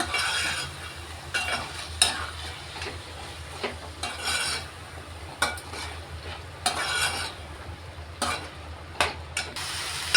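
Ivy gourd chicken curry with garlic and coconut paste is stirred in a pan, a steady run of scraping, clinking spoon strokes over a soft sizzle, close and alone with no talk.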